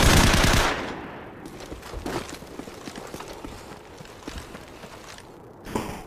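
Rapid automatic gunfire in Call of Duty 4 during a private online match, opening with a loud close burst, then scattered shots and softer crackling fire further off, with a final sharp report near the end.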